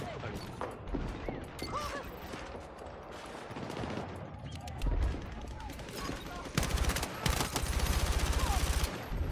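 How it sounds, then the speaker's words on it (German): Gunfire in the video game Battlefield 6 during a firefight, with bursts of machine-gun and rifle shots, rapid rattling volleys growing louder and denser toward the end, and occasional speech mixed in. "Feindlichem Beschuss"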